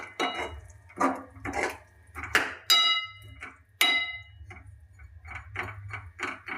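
Manchurian being mixed in a pan, with a series of close, irregular clinks and scrapes of a utensil against the metal pan, several sharp taps standing out, over a low background hum.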